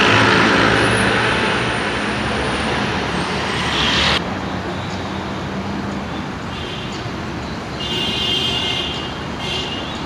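Steady road traffic flows through Three Miles: cars, buses and trucks rumble past nearby in a continuous loud wash, with a hiss of air brakes and a shift in the passing noise midway.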